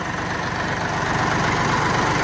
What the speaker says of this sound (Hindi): भाई वाह, क्या स्टार्टिंग है। कई दिन से खड़ा था, बड़ा गजब स्टार्ट हुआ।